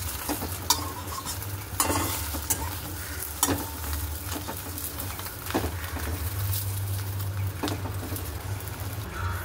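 Two eggs sizzle in a frying pan on a home stove, a steady crackling hiss with occasional sharp taps of a spatula against the pan.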